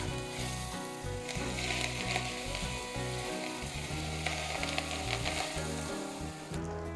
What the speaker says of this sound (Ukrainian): І заливаємо все соняшниковою олією 50 грамів.